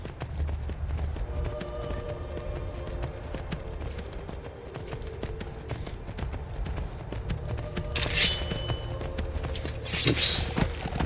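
Horse hooves clopping in a steady rapid rhythm while riding across terrain in the Skyrim video game, close and continuous, with a brief rustle of other game sounds near the end.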